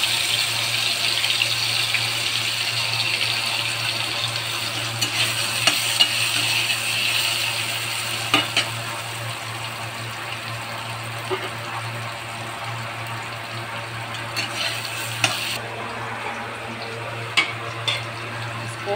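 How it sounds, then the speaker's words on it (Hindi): Potatoes sizzle steadily in oil in a pan with occasional scraping clicks from stirring, over a constant low hum, at a moderate, close level. "आलू को भी फ्राई कर लेंगे।"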